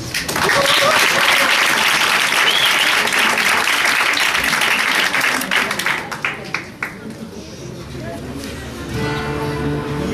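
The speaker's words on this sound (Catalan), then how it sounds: "Jordi Avenyà, un fort aplaudiment per ell." Loud applause from a concert audience fills the first six seconds, dense and sustained, then tapers into scattered claps as music begins.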